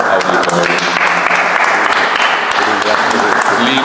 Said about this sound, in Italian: fate un applauso a loro